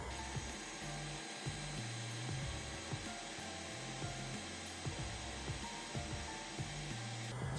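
A heat gun blows air at a faded plastic fender flare on a Jeep Wrangler, set low and not yet hot, giving a steady whooshing hum with faint rubbing and handling noises, close and alone without talk.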